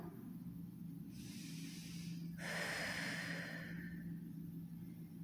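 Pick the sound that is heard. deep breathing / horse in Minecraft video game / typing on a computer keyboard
deep breathing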